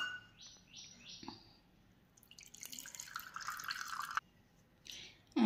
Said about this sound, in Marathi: त्यामधला आता आपण पाणी काढून घेऊया।